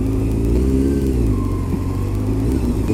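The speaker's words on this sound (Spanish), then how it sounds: "Enormemente petada de coches." Dense car traffic on Madrid's Gran Vía as heard riding a motorcycle, a steady close engine drone and rumble with revving and whirring filling the whole stretch, no voices.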